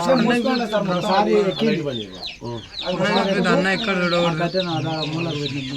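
A hen clucks repeatedly near a rural home, a string of close, loud, strained calls that run almost continuously, dipping briefly in the middle before resuming.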